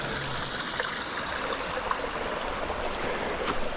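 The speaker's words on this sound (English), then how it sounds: "got your little creek crossing right here" A small, low-water creek at a trail crossing in the Great Smoky Mountains flows as a faint, steady, even babble of running water with no voices.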